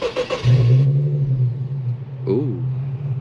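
A tuned Infiniti Q50S, not cold, starts with a brief cranking whirr that catches into a loud, close, low idle rumble, which holds steady while a voice speaks over it.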